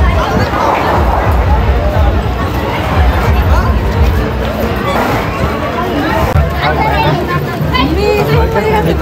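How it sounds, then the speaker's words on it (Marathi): Dense crowd hubbub at the Renuka Mata temple fair in Chandwad: many overlapping voices, steady and loud, with a close voice talking over the babble. "अरे गर्दी बघितली"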